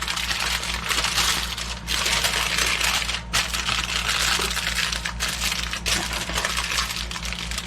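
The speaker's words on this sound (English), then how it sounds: "Okay, wrap this up nice and tight." Aluminum foil crinkles and crumples steadily at close range as meat seasoned with salt, pepper and garlic powder is wrapped tightly for the smoker. The rustling keeps on without a break and nobody speaks.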